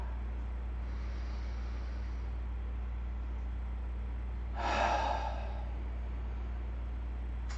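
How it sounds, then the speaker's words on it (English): A single loud, open-mouth breathy exhale during a level 2-3 vinyasa yoga flow class rises briefly out of a steady low room hum, with no talking. "make huge, loud, open mouth exhales"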